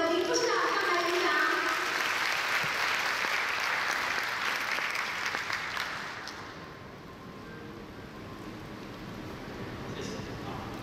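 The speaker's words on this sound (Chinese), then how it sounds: "让我们用最热烈的掌声欢迎我们的林副市长上台领奖" At a business leaders' forum in Kaohsiung, the audience gives a warm round of applause as the deputy mayor comes on stage to accept an award. The full clapping fades after several seconds, leaving a quieter room with some voices.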